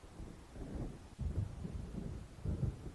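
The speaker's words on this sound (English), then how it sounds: "It seems there's a storm coming." Low rolling thunder of an approaching storm in the video game Alan Wake, rumbling steadily near the bottom of the range with two heavier swells, no voices.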